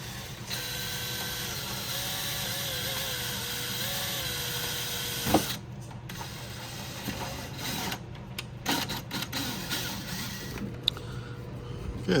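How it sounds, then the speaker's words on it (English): A power driver runs a self-tapping screw into the plastic side frame of a Porsche 997 Turbo, giving a loud continuous mechanical whir for about five seconds, then stopping into quieter intermittent clicks and handling noises. "We're going to use a self-tapper here, so we can go right into the side plastic frame right there"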